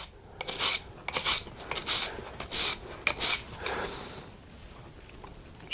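Stanley plane iron cutter being sanded by hand on fine-grit sandpaper, close rasping strokes in an uneven back-and-forth rhythm, with no talk.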